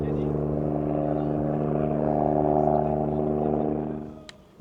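A rescue helicopter flies over the Puy-de-Dôme summit, a steady loud rotor and engine drone with strong low tones that fades out in the last second.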